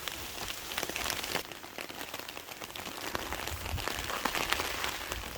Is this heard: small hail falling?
yes